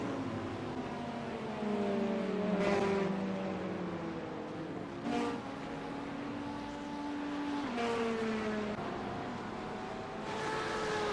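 Race cars in a racing video game sweep past one after another at speed, several loud engine whines each rising and then dropping in pitch as they pass, over a constant engine drone, with no talk.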